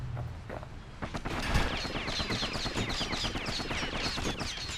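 Rapid, rattling bursts of cannon fire from the Bastion video game, a dense string of sharp repeated shots building over a few seconds, loud and continuous with no voices.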